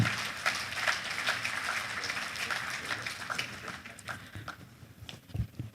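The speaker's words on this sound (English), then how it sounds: "that round of applause is anemic" A conference audience at the Nigerian Economic Society claps in a thin, scattered round of applause that fades out and ends in a few isolated claps, without any voices over it.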